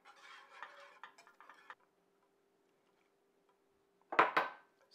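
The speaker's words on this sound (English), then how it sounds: "I just want to continue stirring this until the cheese is fully melted" Grated Parmigiano Reggiano being stirred into a sauce in a pan, with soft scraping and clinking strokes for a second or two, a quiet pause, then a sharper close burst of utensil scrapes against the pan.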